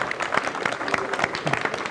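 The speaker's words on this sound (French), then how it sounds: "On peut applaudir après, on peut réapplaudir après." An audience applauds in a room during a wedding photography talk. The clapping is dense and moderately loud throughout, with some voices mixed in.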